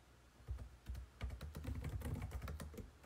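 Typing on a computer keyboard while entering a product name into a PayPal button setup form, with a steady run of close, quick key clicks and no talking.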